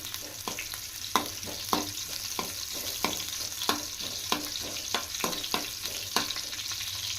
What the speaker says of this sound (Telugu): ఫస్ట్ అల్లం ముక్కలు కొంచెం ఫ్రై చేసుకుందామండి.